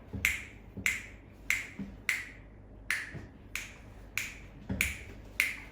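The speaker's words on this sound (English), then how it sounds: "some people call it the bossa nova clave." A bossa nova clave pattern is played as crisp finger snaps or taps, a steady syncopated series of about ten sharp clicks, close and fairly quiet, with no voice over it.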